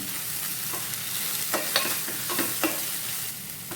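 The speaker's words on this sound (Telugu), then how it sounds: "నెక్స్ట్ పసుపు వేస్తున్నాను. బాగా కలిపేస్తున్నాం." A spoon stirs turmeric into a frying fish curry in a pot, with a steady sizzle underneath and several scraping strokes in the middle, close and alone.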